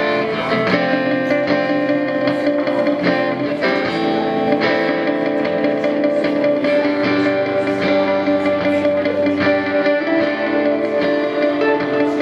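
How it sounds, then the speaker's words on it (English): An electric guitar plays through a delay pedal with the repeats turned up, so its notes echo and smear into a dense, shimmering wash that stays loud and steady throughout, with no talking. "we're going to use that delay"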